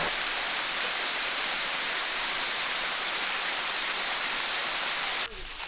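Waterfall in Talladega National Forest, a loud constant broadband rush of falling water heard close up, cutting off abruptly near the end.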